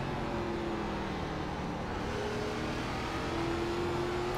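A steady, droning ARCA race car engine on the Stafford oval in the iRacing sim, holding a continuous whine with gradual pitch shifts as the throttle eases through a corner and opens up, no talking over it.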